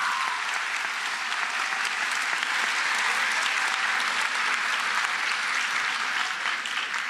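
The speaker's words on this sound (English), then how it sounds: "Students, please give your families a round of applause." Sustained applause from an audience of students and families fills a school promotion ceremony, steady and dense throughout with no pauses.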